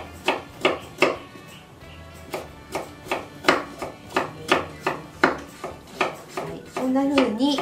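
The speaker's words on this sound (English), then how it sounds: "So now we're slicing the carrots." Knife slicing unpeeled carrots very thinly on a wooden board, a steady run of crisp, close chopping taps, with a few louder clunks and a brief voice near the end.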